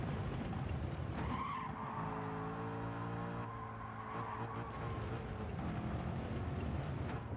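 Chevrolet Corvette tyres squealing and skidding through a drift in the racing game Gran Turismo 7 at the Red Bull Ring, a sustained whining screech over a continuous engine roar.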